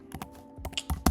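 A short burst of clicks from a computer keyboard as someone types a brief message, a handful of quick uneven keystrokes heard up close and alone.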